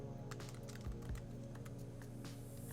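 Typing a command on a computer keyboard: a close, steady run of soft key taps over a low background hum.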